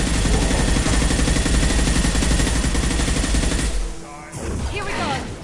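Sci-fi squad combat in Mass Effect 2, with dense sustained gunfire and rapid automatic bursts roaring loudly for several seconds before a brief drop, then more shooting and voices.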